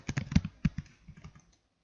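Typing on a computer keyboard, a quick burst of about a dozen close, crisp key clicks at uneven rhythm, slowing and fading out, with no talk over it.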